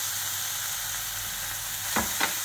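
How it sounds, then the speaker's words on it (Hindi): Masala sizzles and fries steadily in a pan for kala chana gravy as tomato puree goes in, a constant hiss that ends in two brief louder bursts near the end. "तो इस स्टेज पे अब हमने क्या करना है, एक तो हमने अपना टोमेटो प्यूरे डाल देना है"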